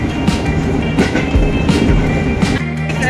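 A commuter train bound for Bogor, heard as close, loud rolling rumble with irregular clanks and rattles over a few seconds, no voices.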